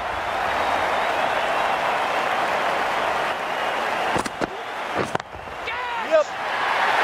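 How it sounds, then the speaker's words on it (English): Excited stadium crowd in the Cricket 19 video game, a Nepal versus Bangladesh match, roars in a steady loud wash, broken near the end by a few sharp thuds and a rising tone, with commentary speech over it. "It's going to be hard for the bowler to focus with the crowd this excited."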